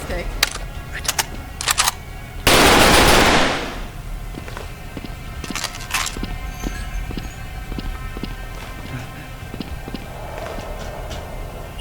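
Gunfire in the video game Wasteland: scattered sharp shots and clicks, with a loud burst of noise near the start, then a run of regular small taps over steady game background.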